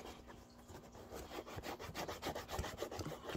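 Cleaner being worked into the suede of Clarks Desert Trek shoes with a brush or cloth: a steady run of quick, close scrubbing strokes, with no voices.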